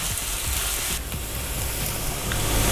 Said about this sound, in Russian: Вливаем растительное масло и сюда забрасываем наш лук. Лук мы жарим до золотистого цвета,